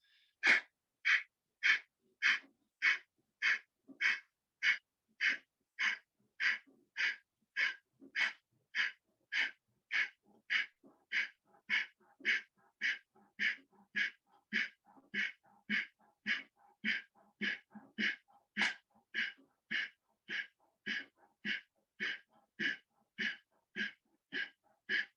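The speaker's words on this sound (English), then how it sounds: "do Kapalbhati for 40 times" Kapalbhati yoga breathing, done in a seated bent-forward pose: sharp, forceful nasal exhalations repeat at a steady, fast rhythm, about forty close puffs in a row with brief passive inhales between them.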